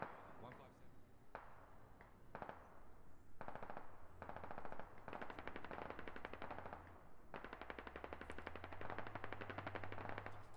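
Long bursts of machine-gun fire in the military shooter game Squad, rapid rattling volleys separated by short pauses, loud and close, with a low engine-like drone and talk partly mixed in.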